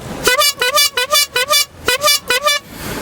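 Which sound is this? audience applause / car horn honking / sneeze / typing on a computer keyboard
car horn honking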